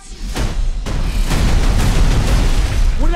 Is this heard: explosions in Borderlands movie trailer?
yes